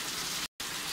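Pea-sized hail falls in a California valley, a dense, even patter that cuts out for a split second midway and then resumes.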